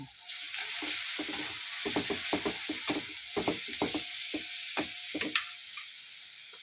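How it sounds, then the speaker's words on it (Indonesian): Chicken gizzard and liver sizzle faintly in a pan as a spatula scrapes and clacks against the metal in rapid, uneven strokes, close and alone. "digongso-gongso sampai wangi harum"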